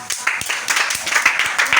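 Church congregation applauding in praise of God, a short burst of dense, close clapping from many people with sharp individual claps standing out, loud and continuous, with a few voices mixed in.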